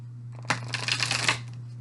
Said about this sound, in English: shuffle one time with the spellcasters